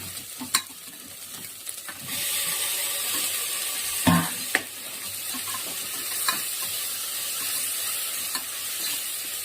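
Tomato being fried with ginger garlic paste in a pan, a steady sizzle that grows louder after a couple of seconds, broken by a few sharp spoon scrapes and taps, with no talking.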